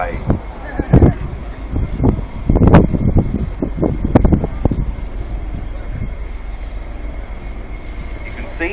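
A V-22 Osprey tiltrotor aircraft with Rolls-Royce Allison AE1107C engines descends for a run-on landing at the RIAT 2015 airshow, its rotor and engine roar distant and wind-buffeted under a commentator's voice, with sharp gusting bursts.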